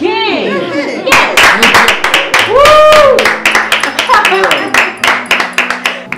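Several people clap for a woman in a drama scene, bursts of hand claps arriving in quick uneven runs, loud and close, with a voice calling out among them.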